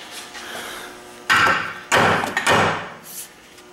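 Heavy hammer blows strike the axle of a 1999 Saab 9-3 during repair: a few loud, close metallic thuds with short pauses between them, after a quieter stretch of workshop noise.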